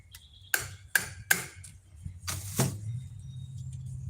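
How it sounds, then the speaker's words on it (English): A hammer taps a hose clamp on a handle, three sharp metallic hits about half a second apart, then a duller double knock, close and clear over a low background hum. "We're going to tap it with a hammer."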